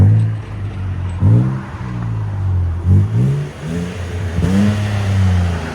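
A 2021 Nissan Frontier pickup's 3.8L V6 with a 14-inch Magnaflow exhaust is revved repeatedly, several sharp throttle blips rising and falling over a deep burbling idle, loud and close.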